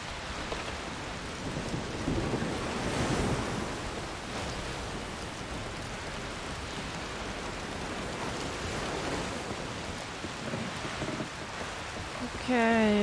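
Heavy rain pours in A Plague Tale: Requiem, a steady, loud, dense hiss with a faint rumble of thunder, ending with a brief tonal swell.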